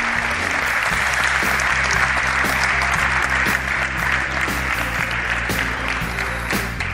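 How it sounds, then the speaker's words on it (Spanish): Theatre audience at the Teatro Ramos Carrión in Zamora applauds steadily at the close of a special programme, with music playing beneath the clapping. "Fuerte aplauso para él."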